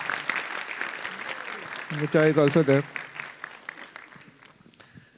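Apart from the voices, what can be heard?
audience applause for contributors at a livestreamed conference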